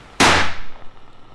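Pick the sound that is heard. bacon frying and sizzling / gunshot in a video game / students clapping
gunshot in a video game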